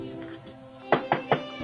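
Three knocks on a front door at an even pace, crisp and close, following a short stretch of quiet room tone.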